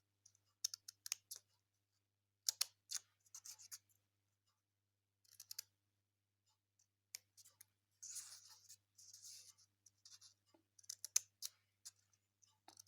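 Scissors snip paper in short, quiet clusters of crisp clicks for a handmade birthday craft, close and alone with no talk, pausing between runs of cuts.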